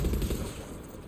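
A tank turret machine gun fires in Far Cry 6 as a brief, loud, rapid burst of shots that hits hardest at the start and trails off over about a second.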